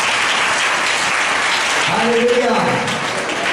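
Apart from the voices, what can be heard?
congregation applause for Jesus Christ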